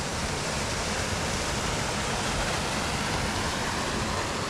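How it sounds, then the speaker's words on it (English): A waterfall along a well-maintained portage trail in the Boundary Waters wilderness roars as a steady, dense wash of rushing water, constant and unbroken throughout with no voices. "Beautiful waterfall."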